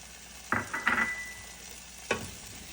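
Potatoes, green chilies and curry leaves sautéing in a pan with garlic and ginger: a few brisk stirring scrapes over a faint, low sizzle, with a louder scrape near the end.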